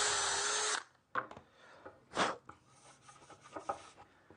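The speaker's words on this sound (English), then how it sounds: "we'll pre-drill some holes because we're actually going to screw through from the other side" A power drill pre-drills holes through wood on a workbench with waste stock behind, a loud steady whirring burst that cuts off after under a second, followed by scattered scrapes, taps and handling noises.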